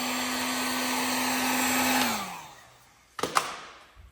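A heat gun blows a steady, loud hum while heating car trim on a Celica GT-Four, then winds down and stops after about two seconds. A couple of short knocks follow.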